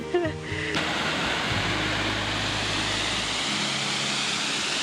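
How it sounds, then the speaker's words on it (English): Steady broadband rush of Lover's Leap Waterfall in Sri Lanka, loud and continuous, with a brief tonal sound at the very start and a low hum running underneath. "Lover's Leap Waterfall."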